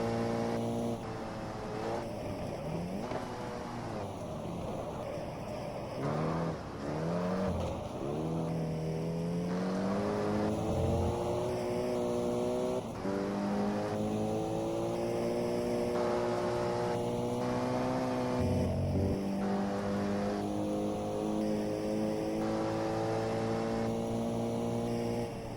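Race car engine in the GT Legends driving game, a continuous loud engine note that drops as the car brakes, then climbs through the revs as it accelerates again, with no talking over it.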